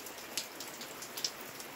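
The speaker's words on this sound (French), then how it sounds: "je me dis que la pluie semble assez forte" Steady, fairly heavy rain hiss in Ireland, with scattered sharper drop taps against a surface, faint and continuous with no voices.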